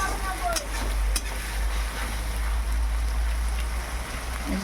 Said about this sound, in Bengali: একটু ভাজা ভাজা হয়ে আসলে